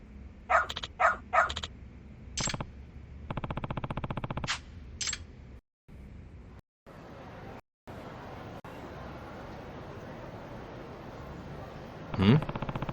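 A dog barks in the video game Lost Judgment: a cluster of quick loud yaps at the start, then sustained game noise with brief dropouts and one more sharp burst near the end.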